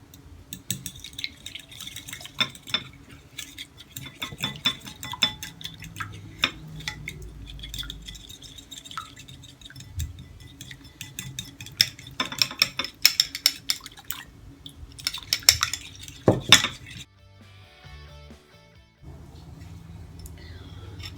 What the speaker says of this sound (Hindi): इन सब चीजों को मैं मिक्स करूंगी अच्छा सा।